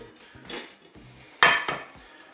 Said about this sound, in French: Maintenant je vais casser les œufs.